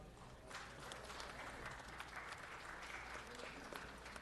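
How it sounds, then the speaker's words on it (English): Faint, distant round of applause from attendees in a city council chamber, a soft steady patter of many hands over a low background hum. "Let's give them a round of applause."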